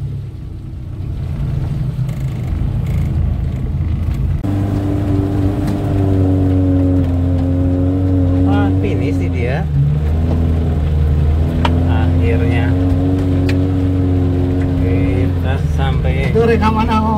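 An off-road car engine drones and revs steadily while driving on a fun off-road trail, loud and continuous with rising and falling pitch, and people talk over it.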